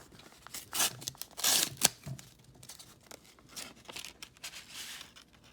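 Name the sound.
tearing open a mail envelope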